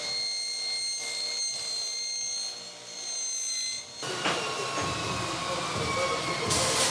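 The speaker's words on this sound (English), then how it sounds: "the way we bevel it is just on our belt sander here." A belt sander bevels the edges of steel standoff pieces for welding a removable front bash bar, giving a steady droning whine that swells into louder, harsher grinding partway through.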